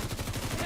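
Rapid automatic gunfire in The Division 2, a quick burst of closely spaced shots with a rhythmic low thump, brief and moderately loud.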